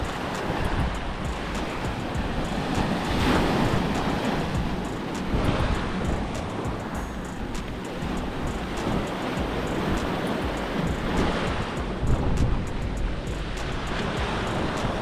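Ocean surf at a beach in Mexico, a steady broadband wash of breaking waves with gentle swells in loudness and some wind rumble, heard without any voices.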